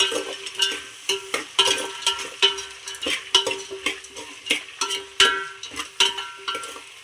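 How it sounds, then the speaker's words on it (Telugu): Vegetable pulao with green peas is stirred in a frying pan: a spoon clatters rhythmically against the metal over a soft, continuous sizzle, close by and with no voices. "ఇప్పుడు దీన్ని కూడా మొత్తం కలిపేసుకోండి."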